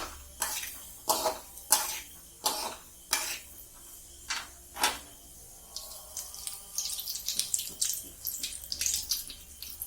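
Urad dal frying in hot oil in a kadai, with sharp separate splutters and bursts early on that settle into a steadier, busy crackle and sizzle, close and fairly loud.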